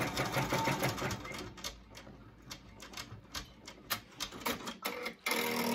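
An embroidery machine sews the placement stitch for appliqué ears on a shirt, a fast, steady mechanical chatter of needle strokes with a few brief pauses and restarts, close and moderately loud, with no talking.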